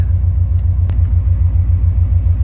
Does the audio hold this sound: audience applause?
no